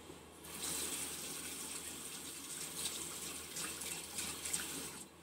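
Tap water runs steadily into a sink to wet something, a continuous close gush with a bright hiss that keeps going for several seconds with no talk over it.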